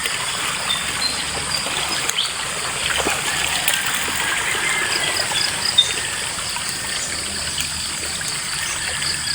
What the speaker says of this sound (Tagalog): Yung busay na maliit.